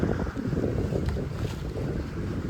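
Steady rush of wind and water against a sailboat under sail with engines off, in the Whitsundays, a continuous broadband wash with no engine drone, fairly close and constant throughout.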